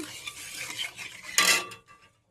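A spoon stirs vegetables in a pot, making a few scraping metal clinks and a brief louder clatter near the end before it goes quiet.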